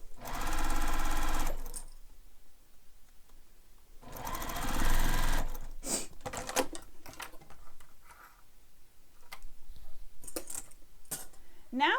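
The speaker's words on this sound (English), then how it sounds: "we're going to stitch along the top using the seam allowance given in the pattern" A sewing machine runs a basting stitch across the top of a fabric bag, two loud steady bursts of whirring stitching, then a spell of clicks, knocks and handling sounds.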